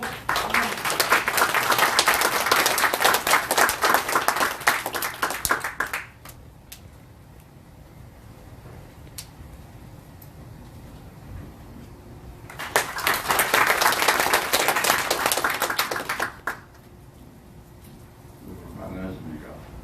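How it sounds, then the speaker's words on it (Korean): Two bursts of audience applause at a Korean political party event, each a dense, loud wave of clapping lasting several seconds, separated by a quieter stretch of room tone and murmur. "많은 박수로 응원해주세요."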